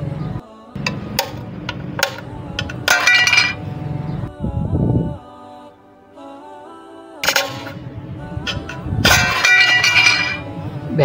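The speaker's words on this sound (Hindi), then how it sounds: "बेहतरीन टूटा है शीशा बिल्कुल" A small glass pane standing in for a car windscreen cracks and shatters as a mini gadget presses down on it, giving sharp close cracks and glassy clinks in several bursts with quieter gaps between.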